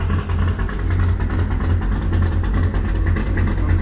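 A car engine fitted with Holley EFI runs just after being started, a loud steady low rumble with a pulsing idle close by.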